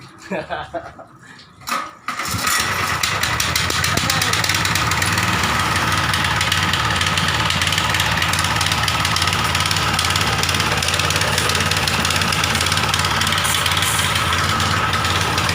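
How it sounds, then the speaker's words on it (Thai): A seven-horsepower engine on a Maruyama 1.2-inch high-pressure sprayer starts after a couple of seconds and then runs loud and steady with a constant rumbling drone, heard close throughout. "ตัวนี้เจ็ดแรงผมนึกว่ามันจะสตาร์ทยากนึกว่าจะสตาร์ทยาก เพราะว่าเจ็ดแรงแต่ตัวนี้สตาร์ทง่ายมากเลย"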